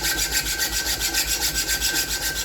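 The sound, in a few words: metal file rubbing on a knife blade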